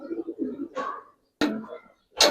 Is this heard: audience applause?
no